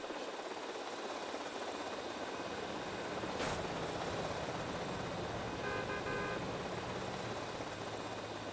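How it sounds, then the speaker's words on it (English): Busy city street traffic in the game GTA Vice City, a steady wash of engine noise with a short horn toot partway through, moderately loud and continuous. "This traffic sucks."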